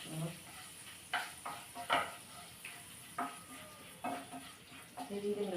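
Whole fennel, cinnamon, cardamom and cloves tempering in a hot pan for a sweet corn sabzi, with spatula scrapes and clinks landing in irregular bursts over a faint, steady sizzle, close by.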